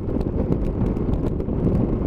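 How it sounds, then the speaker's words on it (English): Gusty wind buffets the microphone on an exposed moorland road, a continuous low roaring rumble with no voice over it. "It's a bit breezy up here"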